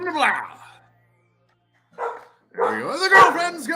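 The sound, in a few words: dog barking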